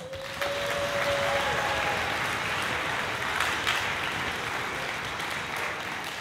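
Sustained applause from a high school spring concert audience honoring Symphonic Band seniors, dense steady clapping filling the hall at an even level throughout, with a brief faint tone near the start and no talking.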